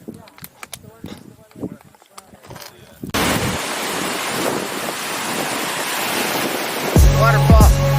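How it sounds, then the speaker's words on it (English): A waterfall seen on a road trip through Mt Lassen roars as a loud, steady broadband rush that begins abruptly partway through, after some nearby talk, with a voice speaking over the end. "Waterfall."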